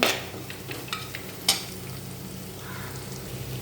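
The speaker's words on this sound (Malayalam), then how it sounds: "ഈ സമയത്ത് ഉണക്കമുളക് ഇട്ട് കൊടുക്കാം." Dried red chillies frying in a pan for a tomato chutney, a soft steady sizzle of hot oil with a few sharp stirring clinks and scrapes near the start.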